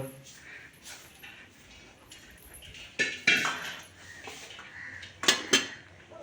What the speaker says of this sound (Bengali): আলু ভাজবে তাই হাতা খুন্তি নিয়ে চললো